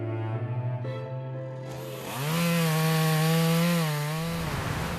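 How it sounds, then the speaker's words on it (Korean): A chainsaw cuts timber on a forested mountainside, starting at a low idle rumble, then revving hard into a loud, steady whine with wavering pitch as the blade bites into the wood. "기계톱 소리와 함께 나무들이 사라진 산 중턱이 눈에 띄는데요"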